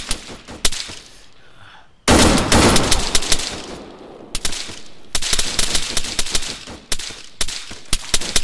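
Machine gun fire in Arma 3 combat, loud close bursts of rapid gunshots separated by short pauses, with a heavy sustained volley in the middle and sharp single cracks toward the end.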